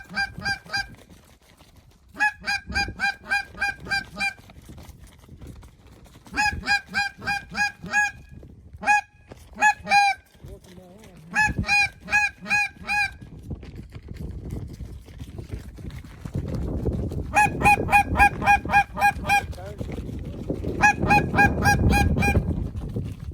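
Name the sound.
flock of geese honking during a goose hunt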